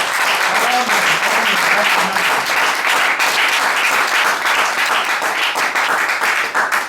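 A church congregation breaks into loud, sustained applause, steady dense clapping filling the room for several seconds with a few voices mixed in.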